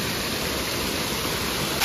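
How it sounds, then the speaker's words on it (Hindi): A waterfall in Dehradun, Uttarakhand, roars as a steady, dense, broadband rush of falling water heard up close, constant and alone without voices. "फाइनली झरना मिल गया"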